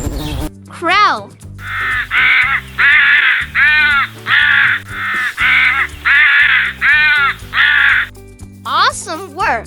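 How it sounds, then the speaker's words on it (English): A crow caws about nine times in an even, evenly spaced series of loud, harsh calls, with a brief voice at the start and end. "Crow."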